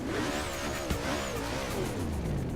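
A car in Forza Horizon 3 drives with a continuous engine roar and tire noise, and one sharp exhaust pop cuts through briefly midway.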